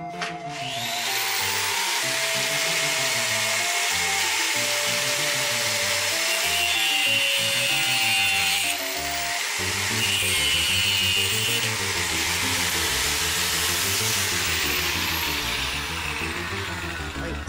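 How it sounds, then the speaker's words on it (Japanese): A sander whines continuously, its pitch wavering as it cuts through wooden chopsticks, loud and close with no talking. "この割り箸ちょっと長すぎるのと、ちょっと太いんで、ある程度のところでサンダーでカットしたいと思います。"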